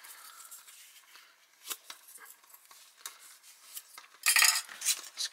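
Metal cutlery from a Russian 24-hour combat ration pack clinks and scrapes as it is handled and wiped down, giving irregular light clatters up close with a louder burst of jangling near the end, no talking.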